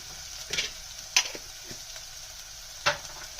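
Crushed red chilli and turmeric frying slowly in oil in a pan for a black chana and potato curry, a soft steady sizzle broken by a few brief stirring clinks, fairly quiet with no talking.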